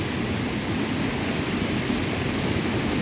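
Steady rushing roar of a waterfall at a swimming spot, dense and unbroken throughout with no voices over it.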